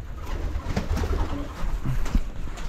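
Pigeons coo on a farm in warm spring weather, soft repeated throaty calls overlapping each other close by, with faint rustling in the background.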